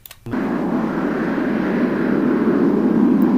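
An airplane flies in as a sound effect for a slide animation, with a steady, loud engine roar that swells slightly as it sustains after a short click at the start.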